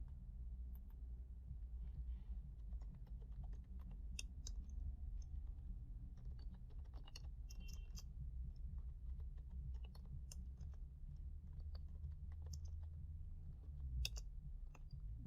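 Keys clatter on a computer keyboard during a JavaScript word-typing game, a steady run of quick clicks over a low room rumble and hum, with no talking.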